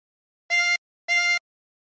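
Two sustained drawn notes on hole 8 of a 16-hole tremolo harmonica, each about a quarter second long with a bright, reedy wavering tone, played clearly and alone with a short gap between them.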